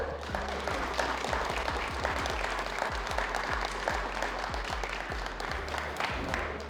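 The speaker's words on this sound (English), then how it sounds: "Please let's give a big round of applause for the legendary" Sustained applause from an audience at a tech and esports event, welcoming a performer on stage: dense, steady clapping from a large crowd, loud and even throughout with no talk over it.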